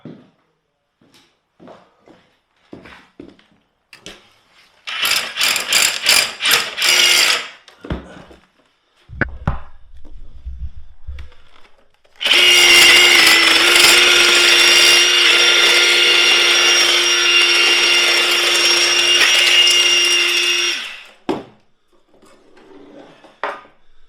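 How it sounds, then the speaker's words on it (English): A loud electric drill boring through a rubble-filled wall whirs in two bursts, the second long and grinding steadily before cutting off, with scattered knocks and clatter between. "I'm going to put the drill through again now."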